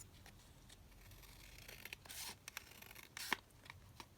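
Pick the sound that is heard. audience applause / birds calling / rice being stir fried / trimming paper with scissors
trimming paper with scissors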